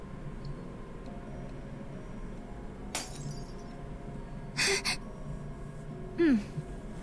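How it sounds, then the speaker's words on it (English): A glass bottle shatters in a video game (GoV Nikke) with a sharp crash, followed by a second bright breaking burst amid quiet ambient background, with faint voices. "she just shattered the bottle"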